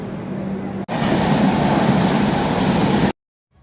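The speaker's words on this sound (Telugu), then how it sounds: "ఈ ట్రైన్ వచ్చే స్పీడ్కి అయితే నిజంగా నా గుండె ఎదిరిపోయింది" A loud, dense roar of a train arriving at high speed, rushing past close by and cutting off abruptly after a few seconds.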